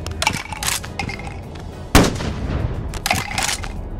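Sniper rifle loaded with shotgun shells fired in the video game Bonelab: a few sharp gunshot bursts, with one loud boom near the middle, close and alone with no talk.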